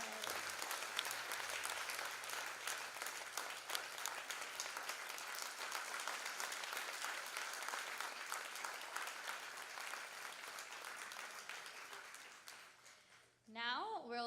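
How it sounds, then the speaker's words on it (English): A live stage show audience breaks into sustained applause, a dense and even wash of clapping that fades near the end before a voice begins speaking. "Big round of applause for my mom"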